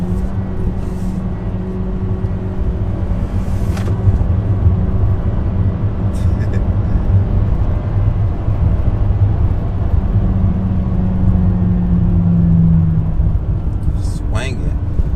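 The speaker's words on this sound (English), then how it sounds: "the RPMs fly up so high" An Acura Integra in sport mode revs hard toward redline, a loud, steady engine drone filling the cabin with a rising whine late in the pull.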